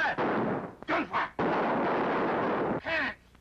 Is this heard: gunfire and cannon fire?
yes